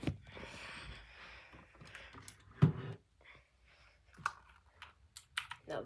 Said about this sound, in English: Now this keyboard is one of the most nice sounding keyboards I've ever had.